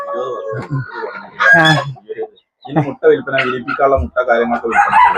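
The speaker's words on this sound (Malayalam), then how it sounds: "ഇത് ഫുള്ള് നാടൻ കോഴി അതിനിടയിൽ വേറെ ടർക്കികളൊക്കെ നടക്കുന്നുണ്ട്" Free-range country chickens in a backyard flock with turkeys and guinea fowl wandering among them, close-up clucking and crowing in bursts, with someone talking over and between the calls.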